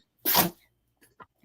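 A single loud, close sneeze bursts out sharply and fades within half a second, followed by a couple of faint short sounds in otherwise quiet surroundings.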